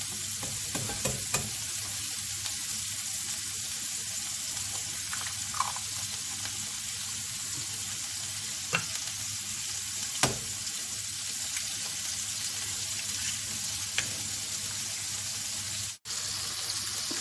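Egg stir-frying in a pan with shrimp for Thai wide-noodle rad na, a steady close sizzle and hiss with occasional sharp clinks of a utensil against the pan, running alone without voices.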